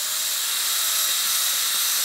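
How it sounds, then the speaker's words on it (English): A steady, high-pitched whirring hiss runs for about two seconds as a drill bores a hole in a 3/4 size guitar, close and constant, then cuts off abruptly. "Now we need to try to drill one hole"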